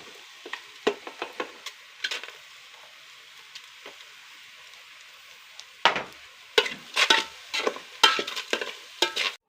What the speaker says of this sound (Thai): ปลาไหลใส่ลงไปก่อนนะผัดให้สุกก่อนให้เนื้อสุกก่อนนะครับ